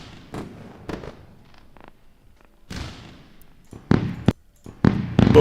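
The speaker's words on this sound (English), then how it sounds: "Let's do a round of fireworks for our friend." Fireworks sound effect during a live trading stream, with scattered pops and crackling bursts that grow louder and denser toward the end.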